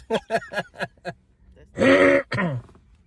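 A few short throaty bursts in quick succession, then a longer, louder rough burp-like sound and one more, close and fairly loud.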